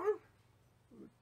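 A battery toy dog from a charity shop giving two short, faint electronic yips, the first a little stronger, with a low hum between them.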